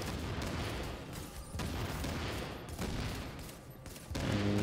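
Rapid, dense gunfire from the video game The Division during a legendary mission at Warrengate Power Plant, shots rattling in continuous loud bursts with brief gaps and a heavier boom near the end.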